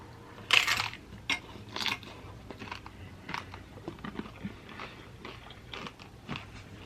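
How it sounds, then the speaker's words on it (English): Close, crisp crunching bites into rib cartilage on a posole tostada, a few sharp snaps followed by softer scattered chewing with no talk. "this is rib with like that cartilage, so if you hear crunching, that's what it is"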